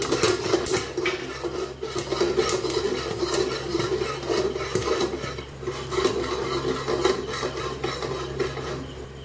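Maize kernels are stirred in a covered pan as they start to pop, giving a continuous close scraping and rattling of utensil against the pan with light clatter throughout.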